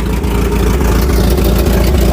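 A rescued scrapyard Volvo 740 idles steadily with its exhaust completely detached, a loud, close, even engine rumble running throughout with no talk.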